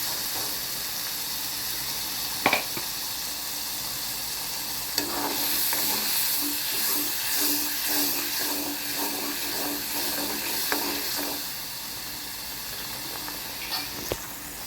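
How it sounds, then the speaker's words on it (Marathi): A splash of water hits a hot pan of oil-fried chilli and garlic, raising a hissing, steamy sizzle with a few sharp clicks from the pan or spoon. "त्याच्यातलं थोडंसं पाणी टाकायचं."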